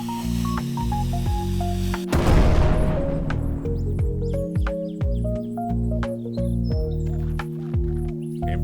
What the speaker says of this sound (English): And an explosion will certainly liven up your article.